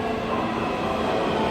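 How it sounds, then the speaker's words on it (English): A Taipei metro train pulls into the station with a steady, loud rumble and rolling wheel noise that fills the platform, continuous and close, with no voices over it. "here's the train."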